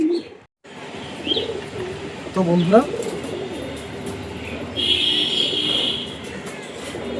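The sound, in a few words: domestic pigeons cooing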